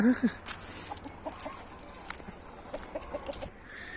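A few short chicken clucks open the scene, then faint scattered clucking against a quiet outdoor background.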